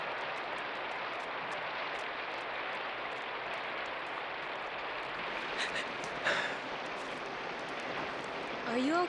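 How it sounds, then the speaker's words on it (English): Steady rain falls outdoors as an even, hissing wash that runs through the whole stretch, with a brief louder patter midway and a short vocal sound near the end. "Hey, maybe it's gonna stop raining."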